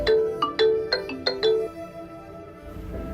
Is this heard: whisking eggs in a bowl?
no